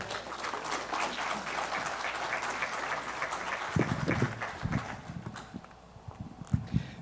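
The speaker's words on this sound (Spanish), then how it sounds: "Un fuerte aplauso para él, por favor." An audience at a lecture on construction cost adjustment in Chiapas claps in dense, sustained applause that thins into scattered, uneven claps.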